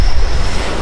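Ocean waves surging and washing continuously at night, a steady broadband roar with low rumbling and wind noise on the microphone, loud and close with no pause.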